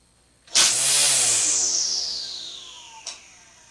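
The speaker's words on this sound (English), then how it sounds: "Install the battery and give the trimmer a test." A Ryobi One+ battery string trimmer gives one short burst: a high motor whir spins up suddenly, then winds down over about two seconds, followed by a faint click. It is close and loud, with no talking.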